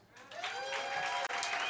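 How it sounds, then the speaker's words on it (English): Audience applause at a live show in a small venue, a steady wash of clapping that holds at a moderate, slightly distant level for under two seconds. "Okay, folks. One more round of applause."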